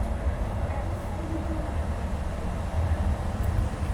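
Steady rumble and rattle of a Shanghai Metro train running along the track toward Lujiazui, heard from inside the carriage, continuous and fairly loud with no talking.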